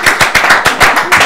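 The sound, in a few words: studio audience applause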